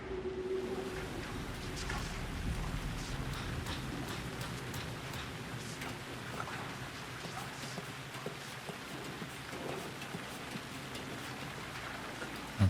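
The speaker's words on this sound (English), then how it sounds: "The rain never stopped falling." Steady rain falls in the dark world of the video game Alan Wake 2, a dense even hiss with scattered drops and light ticks, continuous throughout with a low rumble beneath.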